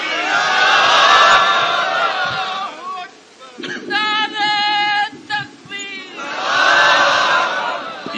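A large crowd at a religious gathering loudly chants the Takbir slogan in unison, answering a preacher's call; roaring group shouts open and close the clip around a shorter, sung call in the middle.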